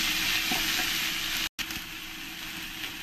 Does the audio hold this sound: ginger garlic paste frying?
yes